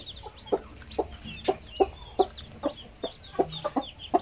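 Newly hatched pure Basilan chicks calling, a run of sharp, evenly spaced chirps about twice a second, close and fairly loud over faint background noise.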